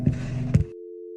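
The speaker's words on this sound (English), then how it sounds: "the phone would disconnect for a final time" A phone line cuts off: two short thumping bursts, then a single steady electronic tone that carries on alone to the end.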